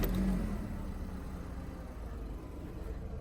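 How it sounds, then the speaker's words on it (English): A VW Golf Mk5 1.6 petrol engine runs steadily after a camshaft position sensor replacement, giving a close, even low rumble that settles into a smooth idle for a few seconds with no talking. "we can start the car"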